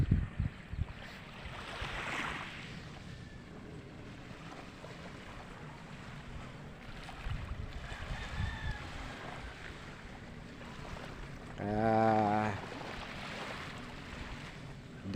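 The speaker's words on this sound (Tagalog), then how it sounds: "dito sa ating karagatan ay talagang napakaganda" Wind and ocean surf rush steadily at sea off Quezon province, a low, continuous roar with gusty swells and one brief tonal sound partway through.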